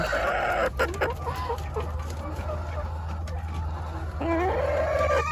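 Hens cluck in a backyard chicken coop where a brooding hen sits on eggs; a steady run of near, fairly loud clucks and calls over a constant low hum, with no talking.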